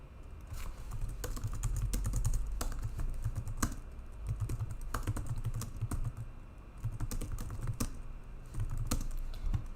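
Steady keyboard typing of a question into a quiz form, short bursts of keystrokes clicking at moderate loudness over a low background hum, with no one talking.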